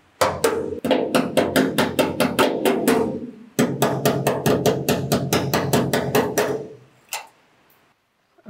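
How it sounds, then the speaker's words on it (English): Custom cab trim being removed from a 60-66 GMC/C10 truck, heard as rapid rhythmic metallic tapping in two long bursts, close and sharp, ending in a single knock and quiet. "now removing this piece of custom cab trim"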